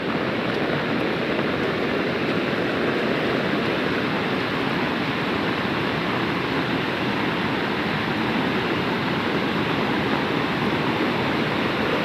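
Flood water after torrential rain in Chandoli pours over a small bridge, a loud, dense, unbroken roar of rushing water filling the whole stretch with no voices.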